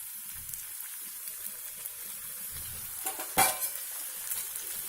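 Sweet samosas (gujiya) frying in hot oil over a low flame give a steady, fine sizzling hiss, broken once by a brief clatter of a utensil stirring in the pan.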